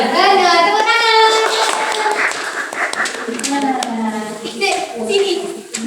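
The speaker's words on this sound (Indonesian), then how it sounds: "Bener, tepuk tangan." Children in an Indonesian classroom clap during a lesson on hadith about manners, scattered claps mixed into loud, continuous young voices chanting and talking together.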